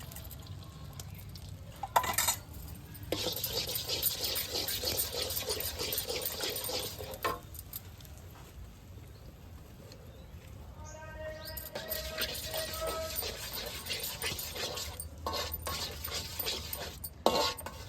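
Eggs seasoned with salt and chili powder are beaten in a bowl, giving long stretches of quick, scratchy clatter close by, with a quieter pause in the middle before the beating picks up again.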